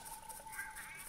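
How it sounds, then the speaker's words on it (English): Ducks quack in the theHunter 2016 hunting game, a quick run of faint, nasal honking calls repeating over about a second with no talk. "Those ducks do my fucking head in."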